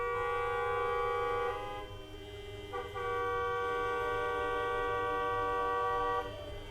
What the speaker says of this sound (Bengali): ওফ বাইরে একদম জ্যাম লেগে গেছে